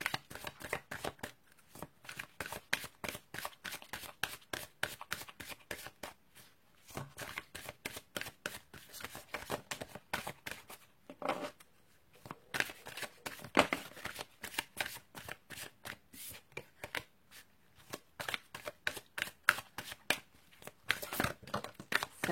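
Tarot cards shuffled by hand in rapid, dense riffling bursts, a steady crisp papery flutter with brief pauses between rounds, close and alone with no talk.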